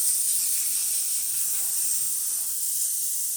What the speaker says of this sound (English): Let's test the steamer while you're here.